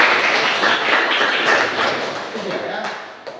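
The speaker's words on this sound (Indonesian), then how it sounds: "tepuk tangan untuk semuanya" Applause from an audience at a Catholic religious education session, a steady wash of many hands clapping for several seconds before thinning out toward the end.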